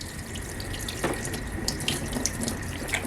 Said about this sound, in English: Now the water's flowing.